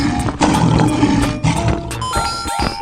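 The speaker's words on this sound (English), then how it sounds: "Lion." A lion in a 3D animal video game gives a loud, close roar, a couple of heavy growling bursts followed by a brief bright game sound effect at the end.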